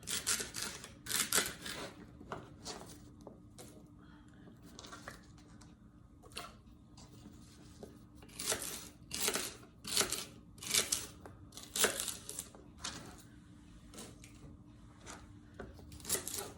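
A knife cuts through soft cooked food, making a series of wet, squishy slicing and tapping sounds in irregular bursts, close and fairly clear, with no talking.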